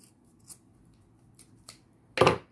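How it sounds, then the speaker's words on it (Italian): Scissors snip through cashmere fabric cut in an arc: a few faint, brief snips followed by one louder, longer cut near the end, set against near silence. "con le forbici lo ritagliate ad arco"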